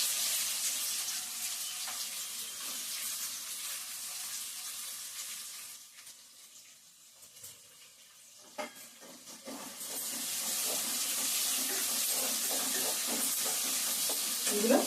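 Onions frying in hot oil for a sand goby fish curry give a steady broadband sizzle with occasional stirring clatter, dipping briefly in the middle before returning strongly; no talking.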